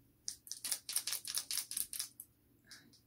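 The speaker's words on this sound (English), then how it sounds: "Cheap binder clips makes clicking noises." Cheap binder clips make a rapid series of small plastic-and-metal clicks, about a dozen in quick rhythmic succession, close by, then a brief pause and a couple more.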